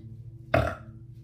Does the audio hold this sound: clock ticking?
no